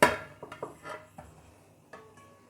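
A metal baking tray is fetched and handled in a home kitchen before roasting vegetables, one sharp clang followed by several lighter clinks and scrapes that fade, close and alone.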